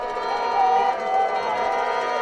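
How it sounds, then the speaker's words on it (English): Home-side crowd at a college football rivalry game at East Campus Stadium, a steady distant murmur of many voices with a faint tonal whine above it. "Decent home crowd on the home side over here"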